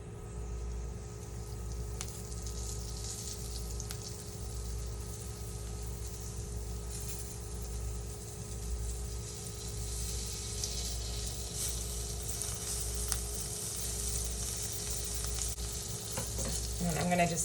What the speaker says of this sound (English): So to the brown butter, I'm gonna add some fresh sage.